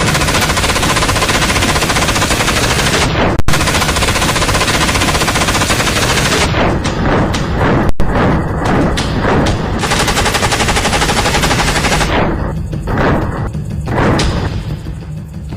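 Israeli assault rifle gunfire, loud and close, with long sustained automatic bursts that fill the whole stretch and break into short gaps near the end.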